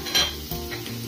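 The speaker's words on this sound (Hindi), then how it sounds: "अब प्याज डालेंगे, प्याज थोड़ा फ्राई हो गया है," Onion and ginger frying in a pan for chicken curry, a short close sizzle with a stirring scrape that swells briefly near the start and again midway.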